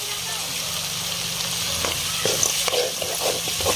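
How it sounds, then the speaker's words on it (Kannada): Paneer tikka masala mixture stirred in a pan, a steady sizzling hiss with scattered scraping clicks from the spoon, fairly close and continuous without speech. "ಈ ಥರ ಸುಲಭವಾಗಿ ಮಿಕ್ಸ್ ಮಾಡ್ಕೊಳ್ಳೋಣ್ರಿ"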